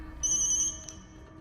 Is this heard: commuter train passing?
no